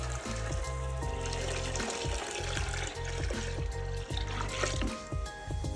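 Water pours and splashes steadily into a plain cardboard box coated with a waterproof coating, a continuous close gurgling stream with rhythmic bubbling, no voices.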